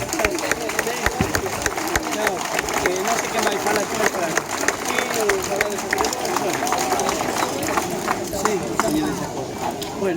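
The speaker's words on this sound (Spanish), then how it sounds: "Por favor, un forte aplauso para eles." Applause from an audience for the Real Banda de Gaitas de Ourense, a dense, steady clapping that fills the whole stretch, with a voice speaking over it.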